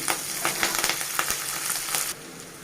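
Green chilies dropped into peanuts and cashews frying in hot oil give a loud, crackling sizzle with sharp popping bursts that then settles to a quieter steady fry.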